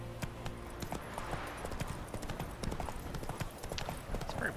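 Hooves of the horse Roach clip-clop steadily in a video game, close and continuous, with game ambience and other sounds mixed in.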